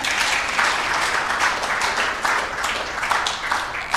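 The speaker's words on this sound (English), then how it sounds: "A round of applause" A conference audience at an East African civil society summit breaks into applause, dense sustained clapping from many hands that fills the room steadily throughout without pause.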